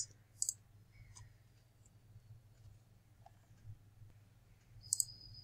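Two quick computer mouse clicks, one near the start and one near the end, sharp and close against a low steady background hum while signing in to the AWS Management Console.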